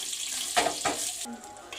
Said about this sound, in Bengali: বেগুনগুলো আগে পিঠে পিঠ করে ভালো করে ভেজে নিই